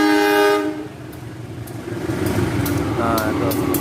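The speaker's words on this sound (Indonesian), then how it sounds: "kebetulan pas hujan ya teman-teman ya, tuh kereta apinya lewat teman-teman" A train driver sounds a loud, sustained horn blast as a passenger train passes a village railway crossing bridge in Cangkring in the rain, and the horn gives way to the deep rolling rumble of the cars going by.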